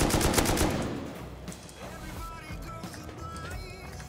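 M2 rifle gunfire in the game Rust, a rapid loud burst of automatic shots at the start that fades out, followed by quieter footsteps and scattered game sounds, with a voice speaking over it.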